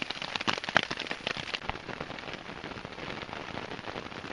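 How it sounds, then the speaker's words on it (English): Rain falls steadily in the Hoh Rain Forest in December, a close, dense patter of drops striking the shelter and ground, with a few sharper louder hits early on before it settles into an even wash. "Just back to normal rain."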